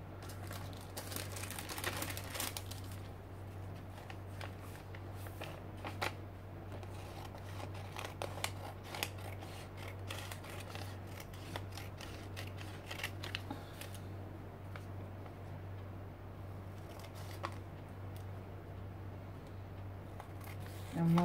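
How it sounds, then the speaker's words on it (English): Scissors snip through a napkin laid on paper for an art journal page, producing a run of faint, irregular cutting clicks and crinkles over a steady low hum, with no talking. "So let's trim the extra."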